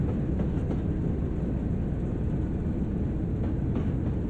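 A heavy train in Train Sim World on the West Somerset Railway slows while climbing uphill, giving a constant low rumble and drone with faint rhythmic clanks, loud and steady throughout.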